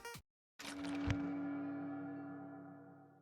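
Minecraft necromancy effect: a short click, then a sudden resonant magical swell with a low thump and a sustained ringing tone that slowly fades, alone and fairly faint.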